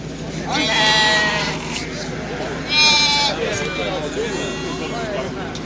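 Lambs and sheep bleat loudly at a livestock market in Beylagan, with two long, wavering cries standing out over a steady background of crowd babble.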